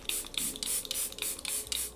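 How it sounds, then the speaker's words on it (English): Charlotte Tilbury Airbrush Flawless Setting Spray is misted in about seven short, close hissing spritzes, each a quick airy burst with a brief pause between, with no talking. "I've been loving the Charlotte Tilbury Airbrush Flawless Setting Spray"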